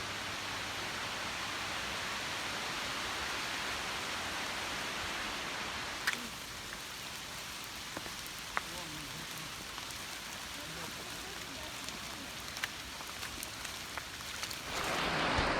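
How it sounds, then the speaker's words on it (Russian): Rain falls in a mountain gorge, a steady close hiss of drops with occasional sharper patters that swell near the end. "Пошел дождь"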